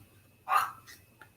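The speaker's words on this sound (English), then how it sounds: "If you heard that weird noise in the background, that was my dog yawning" A pet dog yawning indoors: one short, squeaky, breathy vocal sweep up close, followed by a fainter after-sound and a tiny click, otherwise quiet.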